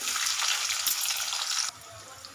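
Oil sizzles loudly and steadily in a pan as cumin, mustard seeds and onions fry, a dense frying hiss that suddenly drops to a quieter crackle.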